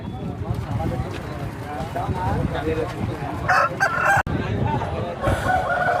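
Roosters crow several times over a busy, noisy crowd with people talking, the crows loud and nearby, rising above the chatter.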